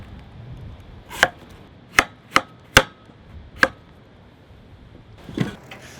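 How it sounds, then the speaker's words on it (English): A knife cuts radish into thin strips on a board with five sharp, separate chops at uneven intervals, then a softer scrape near the end, all against a quiet room. "Just cut into really thin strips."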